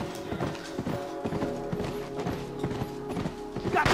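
Rhythmic hoofbeats of a horse galloping in The Last of Us video game, steady clip-clop cadence up close with game ambience layered underneath.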